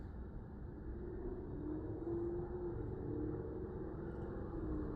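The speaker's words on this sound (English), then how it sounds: "Somebody's getting on the exhaust." A car exhaust revs somewhere nearby, a steady low droning roar with a slight rise in pitch, heard from inside a vehicle parked at a Mercedes-Benz charging station at an outlet mall.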